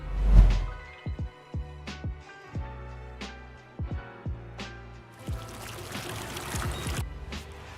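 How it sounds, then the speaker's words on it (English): Running water in the baseball video game MLB The Show, a faint pouring trickle behind a scatter of soft clicks and knocks, with the flow growing a little fuller toward the end. "just the running water for a second"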